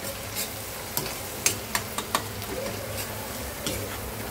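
Onion with colour masala frying and being stirred for a Maharashtrian dragon stalk yam (shevla) bhaji, a steady soft sizzle under a run of sharp spoon scrapes and clicks at close range.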